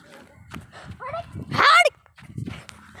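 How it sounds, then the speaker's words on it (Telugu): Street dogs bark and yelp in short bursts amid shouting voices and scuffling, with one loud, harsh cluster of barking near the middle. "కుక్కలు అవే."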